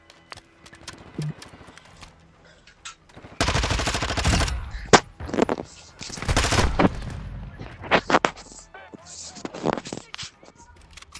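Gunfire in Modern Warfare 2, with rapid automatic bursts and scattered single shots in loud clusters, broken by quieter gaps and radio-style voices talking.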